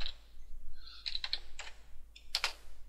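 Fingers type a command on a computer keyboard, a quick run of light, crisp key clicks in small bursts with short pauses, close and fairly quiet over a low background hum.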